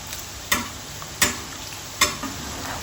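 A spoon stirs homemade crispy fried dough snacks in a pan, giving three sharp metallic scrapes and clinks spaced about a second apart over a steady low sizzle.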